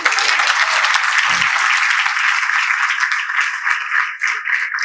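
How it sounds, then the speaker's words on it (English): Sustained applause from an audience at a Sunday class in an ISKCON temple in Hyderabad, dense and steady clapping filling the room throughout, fading slightly near the end. "You should clap because it's amazing."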